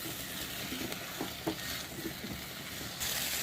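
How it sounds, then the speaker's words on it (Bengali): Boiled green jackfruit being stir-fried in a pan of cooked spice masala, a steady soft sizzle with occasional scrapes and stirring knocks, close and alone with no talking. "এবার আমি দিয়ে দেবো আগে থেকে সিদ্ধ করে রাখা এঁচোড়, দিয়ে ভালোভাবে আমি কষিয়ে নেব।"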